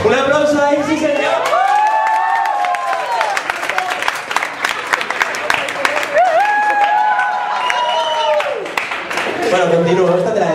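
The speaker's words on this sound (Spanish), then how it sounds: "Un aplauso ahí, sí, señor." Crowd at a live show in a café applauding and cheering, loud and continuous, with a voice singing or calling out over the clapping.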